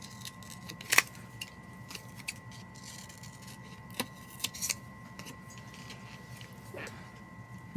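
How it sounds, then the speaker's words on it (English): Scissors cut out a paper tag with a few sparse, crisp snips spread across a quiet room, soft and close with long pauses between cuts. "I think I'm going to cut out this tag as well"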